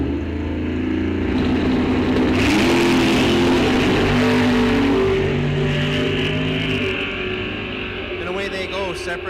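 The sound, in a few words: drag race of a 71 Duster and a Camaro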